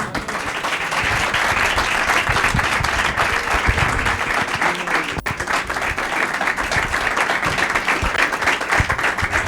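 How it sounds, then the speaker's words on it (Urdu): A church congregation at a gospel service gives sustained, loud applause, dense steady clapping from many hands filling the whole stretch with no pause. "اپنے بادشاہ کے لیے زوردار تالیاں جائیں."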